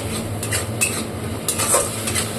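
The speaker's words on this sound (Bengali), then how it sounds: "ফ্লেমটাকে একটু বাড়িয়ে নিই, বাড়িয়ে আর একটু ভেজে নেব" Chilli paste and spices frying in a pan over a raised flame for dim posto, with a steady close sizzle and repeated stirring and spoon scrapes against the pan, no talk.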